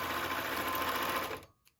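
A Singer sewing machine stitching fabric runs steadily and close for over a second, then stops abruptly, followed by a faint click.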